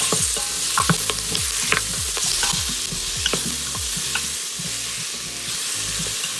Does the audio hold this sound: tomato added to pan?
yes